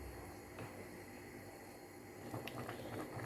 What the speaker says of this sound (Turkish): 5 dakika bu şekilde kaynatalım.